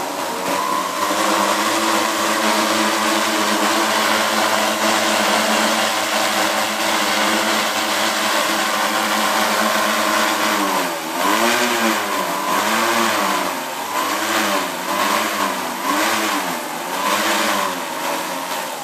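Smartdrones SD-M550G 4408 brushless motors on a 4s LiPo with WII ESCs whine steadily, then their pitch wavers up and down in repeated swells as the throttle is varied, loud and alone.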